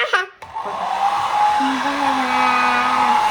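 A hair dryer blows a person's hair at home, a steady close whirring drone that begins abruptly after a short moment and runs on evenly, with a faint voice briefly present.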